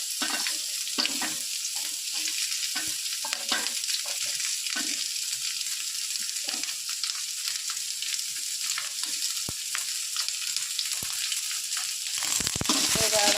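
Dried red chillies and freshly sliced onions sautéing in hot oil for a chutney give a steady, close sizzle broken by frequent scraping and stirring clicks throughout.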